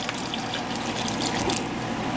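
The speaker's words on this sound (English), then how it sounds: "add a little bit more water to that" Water poured into a pan of simmering Spanish rice on the stove, a steady close rush of liquid with a bubbling hiss that stays even throughout, no voices.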